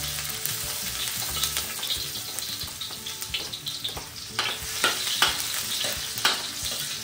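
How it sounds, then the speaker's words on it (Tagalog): Garlic sautés in hot oil with a loud, continuous sizzle and crackle, broken by irregular stirring clinks and scrapes, with no voices. "Eto, magigisa na tayo ng bawang."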